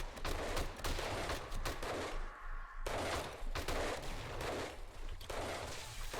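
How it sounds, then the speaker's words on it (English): Dart traps firing darts in the zombie survival game 7 Days to Die, a dense, continuous barrage of rapid sharp shots with a brief lull midway before the volley resumes. "it'll just shoot off some darts."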